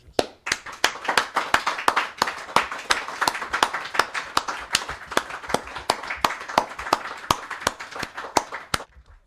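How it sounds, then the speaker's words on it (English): Rhythmic, evenly spaced claps from a small group at a religious Christmas gathering, loud and close, continuing steadily for about nine seconds before stopping abruptly. "A great big applause to every last one of them."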